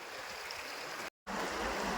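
Clear river water at a bathing spot rushes and churns as a steady, full wash of flowing sound, with one brief dropout to silence midway.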